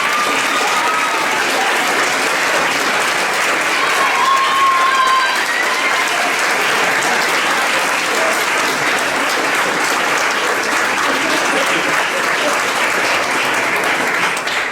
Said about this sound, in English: A round of applause to Donato